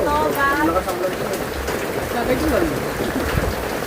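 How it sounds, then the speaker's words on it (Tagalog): Steady rain falls heavily and close by, a dense hiss under people talking. "Umuulan kasi."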